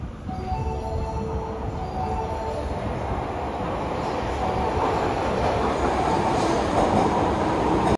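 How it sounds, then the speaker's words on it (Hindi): An Osaka metro train rumbles steadily for several seconds, with a loud continuous roar of wheels on rail, faint clicking and a thin high whine riding over it. "तो अभी तो चलते हैं मेट्रो में, जो कि हमारी आ चुकी है।"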